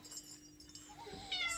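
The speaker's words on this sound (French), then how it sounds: "Alors du coup, voilà, c'est miaou, miaou." A pet cat meows indoors in a short, faint cry rising near the end, over quiet room noise and a faint clink.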